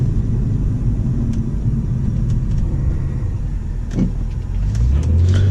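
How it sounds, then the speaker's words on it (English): Engine of a 2004 BMW E46 330i ZHP sedan cruising at about 25 mph, a steady low rumble with road and cabin noise throughout, no voices. "even at low speeds, like as you guys could tell, I'm doing like 25 right now, you can hear the engine,"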